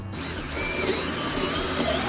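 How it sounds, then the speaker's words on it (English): A power drill whirs steadily as it bores through Play-Doh during a van build interior wall job, a close, loud, continuous motor whine with no speech. "It's nice you can drill right through the Play-Doh."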